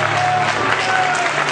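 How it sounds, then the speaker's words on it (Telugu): A church congregation claps hands together in steady applause, a dense continuous patter filling the room without pauses. "యేసుక్రీస్తున్నా మనం చప్పట్లు కొట్టి గట్టిగా మహిమపడినప్పుడు"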